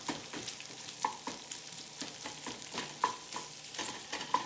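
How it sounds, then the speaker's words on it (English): Sliced onions sizzle in a pan while a utensil stirs and breaks them up, giving a steady frying hiss punctuated by regular soft scraping strokes, fairly quiet and close. "we're just going to stir the onion, break it all up"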